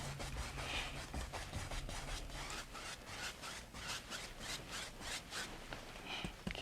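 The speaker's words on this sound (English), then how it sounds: "Just using little crisscross strokes and blend it." A paint brush scrubs small crisscross strokes across canvas to blend a sky in a dark coastal landscape painting, a close, dry rhythmic brushing and rubbing repeated in quick strokes, alone without speech.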